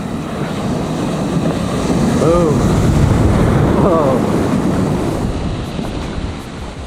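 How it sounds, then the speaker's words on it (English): Big ocean waves roll in at Varkala beach in Kerala, a broad, steady surf roar mixed with wind buffeting the microphone, while a person briefly exclaims over the crashing water. "Do get some big waves though, check this out."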